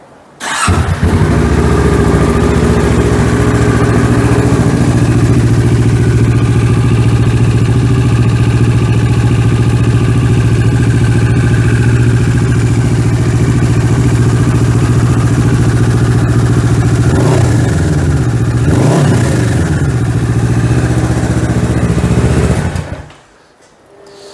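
A 2022 Kawasaki Ninja 650 twin-cylinder motorcycle with a LeoVince full exhaust fires up and settles into a steady, loud idle close by for about twenty seconds before cutting off.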